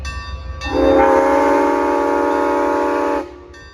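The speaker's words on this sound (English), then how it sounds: "There's 361 with the whistle blow." A loud, sustained Amtrak train horn blares for about two and a half seconds at Fullerton, close and steady, then cuts off, leaving a low rumble.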